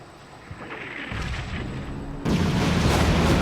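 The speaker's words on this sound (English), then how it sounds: "the helicopter got it with cannons" In a Ukraine campaign mission of a combat video game, an attack helicopter fires its cannon and explosions follow. Heavy booms and rumbling blasts grow louder partway through, then settle into a sustained, dense roar of explosions.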